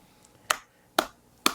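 Three sharp, evenly spaced claps ring out for a host, crisp and fairly faint, each a quick snap followed by near silence.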